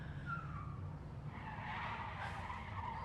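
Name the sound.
car tire skidding in a movie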